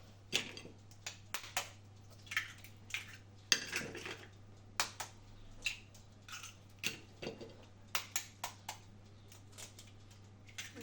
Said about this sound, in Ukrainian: б'ю сюди 7 яїць